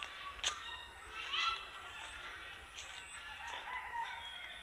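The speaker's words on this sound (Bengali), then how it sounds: "কি সুন্দর পাখি ডাকছে।" Birds call in a tall Gazari (sal) forest at Tengramari in the Garo hills foothills of Mymensingh, a few faint, distant, rooster-like crowing calls rising over quiet outdoor ambience.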